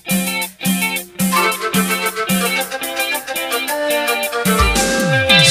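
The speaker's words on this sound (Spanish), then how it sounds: "que suena ya la guitarra, que está sonando el fa" Live band playing a norteña song at a concert in Colomé, with guitar leading: loud, bright repeated rhythmic phrases that build into a fuller, busier passage at the end.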